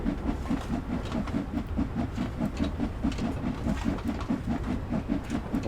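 Steam locomotive in Train Sim World 2 on the Liverpool Lime Street to London Euston route, chuffing in a steady, even rhythm of low puffs over a continuous rumble, with no talk.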